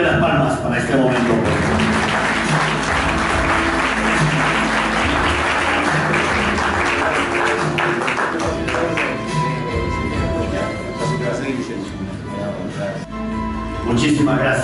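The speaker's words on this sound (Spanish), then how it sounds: "Fuerte las palmas para este momento." Crowd applause at a civic ceremony in Carhuaz marking the transfer of the SAR early warning service, a dense, steady clapping that fills the whole stretch at close range with voices mixed in.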